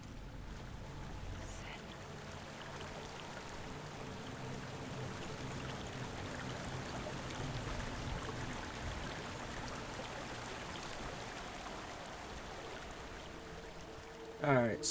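Steady, full rushing of a waterfall in the video game Hellblade: Senua's Sacrifice, a dense continuous roar of falling water that holds unbroken throughout, with a short voice-like sound near the end.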